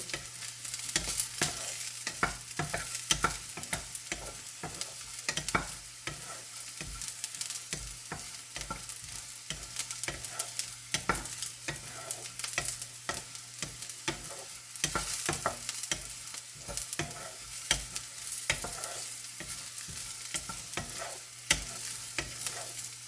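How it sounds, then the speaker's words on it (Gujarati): Bitter gourd pieces frying in oil until brown, a soft continuous sizzle with frequent scraping and stirring clicks of a utensil against the pan, fairly quiet and steady throughout with no voices. "તે આપણે શેકી દીધા તેલમાં. એને બ્રાઉન કલરના થાય ત્યાં સુધી આપણે શેકવાના છે"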